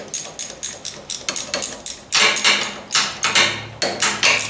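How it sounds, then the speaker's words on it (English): A ratchet wrench clicking rapidly while working on a Ford 800 tractor, a close, crisp run of evenly spaced ratcheting clicks that turns louder and heavier partway through. "I love these ratchet wrenches."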